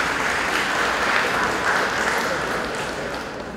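Audience applause at a San Diego Union-Tribune forum on fake news, a steady dense wash of clapping that holds evenly and tapers slightly toward the end.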